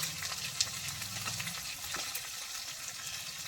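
Chopped tomato fries in a hot pan with a steady, close sizzle and crackle, plus a few brief clinks and stirring scrapes, and no voices.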